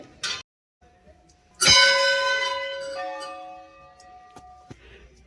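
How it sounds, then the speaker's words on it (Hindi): Temple bells in Nainital, one struck bell ringing out loud and close with a long shimmering decay, followed by a few smaller, fainter bell strikes. "ये देखो कितनी घंटियां यहाँ पे"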